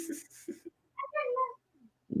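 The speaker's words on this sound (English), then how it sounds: "that cat is the new toy around here too" A household cat meows with a drawn-out, wavering call in the middle, a short faint mew after it, and brief human voice sounds before and after.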